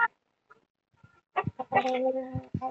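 Close, fairly loud clucking from a chicken, with scattered soft calls at first and then a burst of clucks that ends in a drawn-out squawk, and no speech.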